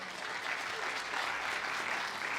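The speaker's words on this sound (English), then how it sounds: "a round of applause" A panel audience at a journalism event gives a short, even round of applause, a dense patter of clapping that is moderately distant and continuous.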